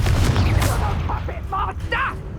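Blasting curse spell cast in Hogwarts Legacy, a few sharp explosive bursts and crackling magical blasts in quick succession over a steady low rumble, with a voice calling out between them.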